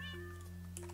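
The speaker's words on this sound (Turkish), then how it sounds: "Kedi burada sıkışmış." A cat meows in Minecraft, its clear tonal call sitting over a steady low game hum and ambient tones, with a brief second cry near the end.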